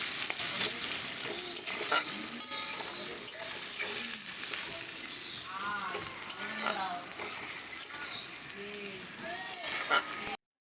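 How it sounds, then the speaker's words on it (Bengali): Chopped onions sizzle in hot oil in a pan for rajma masala, a steady bright crackle throughout, broken by occasional stirring and scraping of a utensil against the pan; a voice talks over it at times. "পেঁয়াজটাকে একটুখানি লাল করে ভেজে নেব।"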